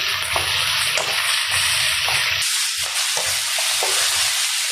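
Onions frying in a pan give a steady loud sizzle, broken by repeated stirring and scraping strokes.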